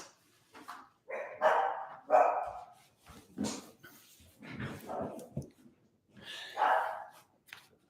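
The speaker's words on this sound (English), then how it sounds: "Those are my annoying dogs" Several dogs bark loudly and repeatedly nearby in overlapping bursts, with a few yips mixed in, indoors during a live question-and-answer session.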